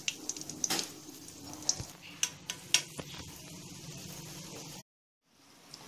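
Gulab jamun made with mawa frying gently in oil over a low flame, a soft steady sizzle with small crackles and pops, close and quiet, cutting out briefly near the end.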